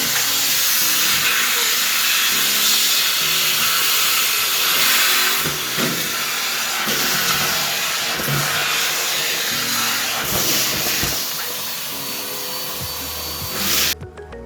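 A Henry Allergy cylinder vacuum cleaner runs with a loud, steady whooshing roar, with occasional bumps and rubbing as it moves, cutting off abruptly at the end.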